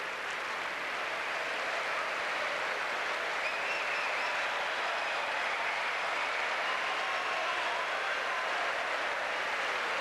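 A large crowd at a Munich tennis match applauds both players, a sustained, even roar of clapping that holds steady for the full stretch at a moderate distance with no voices over it.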